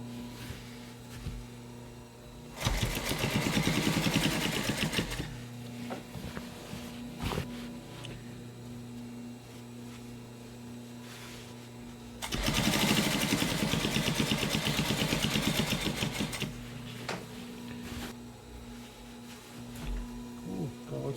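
Sewing machine re-stitching weak thread on Sunbrella fabric, two loud bursts of rapid mechanical stitching lasting a few seconds each, separated by quieter stretches of low hum and occasional clicks.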